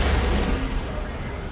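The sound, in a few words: lascannon shot in video game Dawn of War 2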